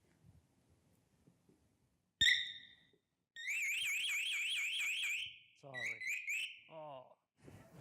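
A vehicle alarm triggered by its remote gives a short chirp. It then sounds a loud warbling siren for about two seconds, followed by a few faster electronic chirping tones. A faint background murmur comes before it.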